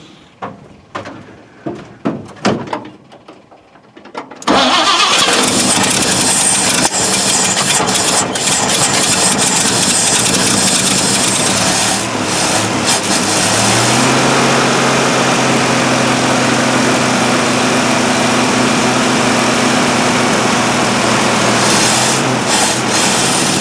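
A 1950 Chevrolet six, likely a 216 or an upgraded motor, cranks in a few uneven bursts, then catches and settles into a steady, loud idle close by.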